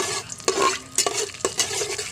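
Mustard seeds and cumin frying in hot oil inside a rice cooker, a crackling sizzle punctuated by sharp stirring scrapes and popping bursts.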